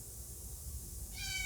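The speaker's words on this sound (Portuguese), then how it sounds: "Tem um gato miando ali" A hungry house cat meows once, a clear tonal cry arriving near the end after a quiet stretch of background hiss, moderately close.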